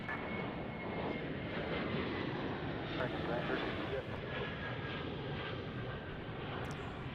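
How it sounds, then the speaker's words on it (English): An airplane at Dallas/Fort Worth International Airport gives off a steady, broad jet engine roar heard outdoors from some distance, holding constant throughout with light wind noise. "That is Colin's plane."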